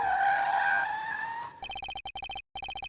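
A car's tires screech in a long sliding skid, then the sound cuts to a rapid, choppy engine-like pulsing as the car speeds off, from an Ace Attorney video game.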